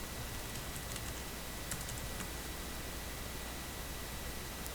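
Keys on a computer keyboard are tapped in a few quiet, scattered clicks while C++ code is typed, faint against a steady hiss of background noise.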